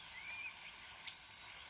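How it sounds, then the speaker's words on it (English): A bushtit gives thin, high calls: a faint wavering twitter, then a brief, slightly louder high-pitched burst, heard alone in quiet surroundings. "it just looks like a puffball with a tail, but that's a bush tit"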